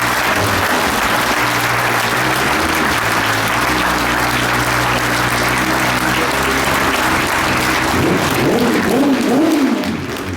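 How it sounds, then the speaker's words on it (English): An audience at a motorcycle museum anniversary celebration applauds John McGuinness beside a 2003 Triumph, a loud, full, sustained ovation with some cheering, tapering off near the end as a voice begins. "Give him a round of applause."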